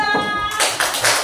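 A second-grade class performs a rhythmic clapping chant in a classroom, a few quick sharp claps following a brief tone, close and fairly loud.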